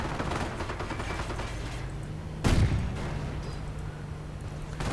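Gunfire and artillery from a war strategy video game battle, with a low rumble of distant fire and one sharp, loud blast near the middle.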